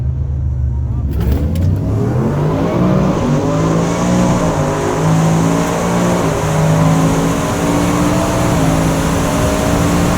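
A Whipple supercharged 2018 Ford F-150 launches on a drag strip, its engine roaring close and loud, then revving up through several gear shifts over about ten seconds.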